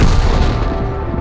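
Tank gunfire in a World of Tanks battle, with an E-25 tank destroyer taking hits from a distant position by a lighthouse: a loud, continuous booming rumble of shots and explosions blending together, no voices.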